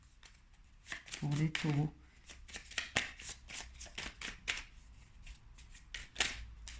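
Tarot cards being shuffled by hand during a reading, a rapid run of crisp riffling and flicking that goes on throughout, close and clear, with someone speaking briefly over it.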